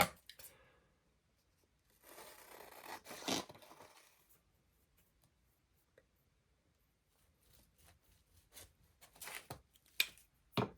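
Scissors trimming the top edge of free paper scraps for a whimsical glue book spread, a few quiet close snips and rustles in short bursts separated by silence.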